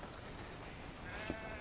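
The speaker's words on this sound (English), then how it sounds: "the sheep ahead were scurrying away" A sheep gives a single short bleat in a Welsh field, faint and somewhat distant over steady outdoor wind noise.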